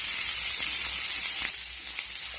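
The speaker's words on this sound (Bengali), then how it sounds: "কাঁচা লঙ্কা আর পেঁয়াজটা আমি একটু ভেজে নেব।" Chopped onion and two large chopped green chillies frying in a pan give off a steady, close, bright sizzle that continues unbroken, with no voices over it.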